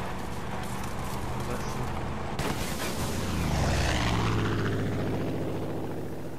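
An airplane drones overhead in Far Cry 5, a loud, broad engine roar that swells and sweeps past midway with a falling pitch, while players talk over it.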